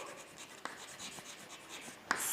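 A pen writes accounting ledger entries by hand on paper, a faint close scratching in short strokes with a couple of sharper taps.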